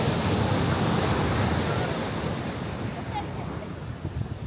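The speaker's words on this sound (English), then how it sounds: "Come on, bring the big waves." Ocean surf breaks on the beach at Cabo San Lucas, a steady, loud roar of crashing waves and wash with wind buffeting the microphone, easing slightly toward the end.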